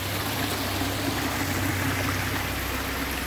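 A small waterfall on a mountain trek in Uttarakhand, with trickling stream water giving a steady, broadband rushing wash that stays even throughout, close by and with no talking over it.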